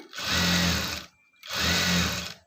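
A sewing machine runs in two sustained bursts of stitching along fabric piping, each about a second long with a short pause between, loud and close.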